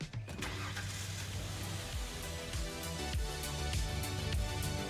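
Car engines and traffic rumble steadily while driving in the video game NTE (Neverness to Everness), with low engine drones and a few passing swells across five seconds, no talking.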